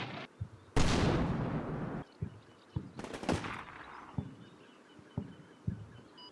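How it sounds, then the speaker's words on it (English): Artillery shells strike the ground in Combat Mission Shock Force 2, heard as a heavy crashing impact with a long rumbling tail. Further booming hits and scattered sharper thumps follow, some near and some more distant, with no talk. "Slowly but surely, we start getting some artillery hitting the ground"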